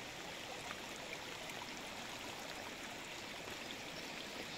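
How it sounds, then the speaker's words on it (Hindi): Steady rushing rainwater flows without pause along a flooded path, a dense broadband wash with faint trickling detail and no voices. "अगर आपको पानी की आवाज़ भी आ रही होगी ज़बरदस्त।"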